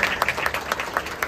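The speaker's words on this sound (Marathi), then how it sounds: "जोरदार टाळ्या ओमकडे" A crowd claps for the junior group's first-prize winners at a fort-building competition, a short burst of steady, mid-distance applause.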